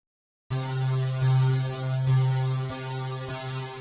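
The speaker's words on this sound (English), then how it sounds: "And then we can saturate that to give it a bit of crunch." Gritty, driven synth chords hold steady after a moment of silence, their brightness shifting as a filter slowly sweeps, with a couple of chord changes.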